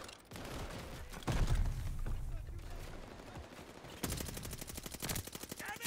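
Rapid gunfire from Call of Duty Vanguard, with bursts of automatic shots and sharp cracks under game noise, loud and fast-paced, with a dense rattling volley near the end.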